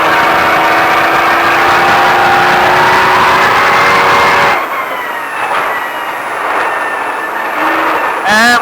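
A Baja truck engine roars loud and sustained on a race track, then drops abruptly as the throttle lifts, with a thinner engine note and a high whine carrying on before the power surges back.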